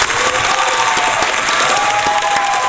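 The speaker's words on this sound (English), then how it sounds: "Let's give a big round of applause to Atharv." An audience at an English-lesson debate applauds a speaker, with dense, continuous clapping at a steady level for the whole stretch and no talk over it.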